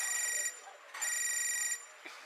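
A telephone rings in a classroom in a cartoon, two long buzzing electronic rings with a short gap between them, close and clear over a faint background.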